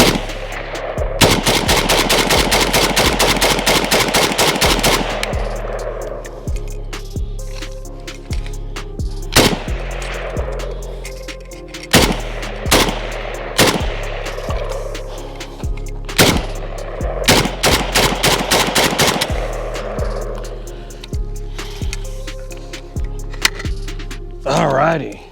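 A WASR-10 AK-47 rifle fires steel-cased Tula rounds outdoors with loud, close reports, mixing fast rapid-fire strings with spaced single shots and short pauses between.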